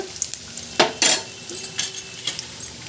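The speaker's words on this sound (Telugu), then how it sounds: "జీలకర్ర మిరియాలండి వీటిని వేయించుకోవాలి" Crushed cumin and black pepper tossed in a hot pan, heard as a soft sizzle with a few clear stirring scrapes and clinks of a metal spoon, close and without talk.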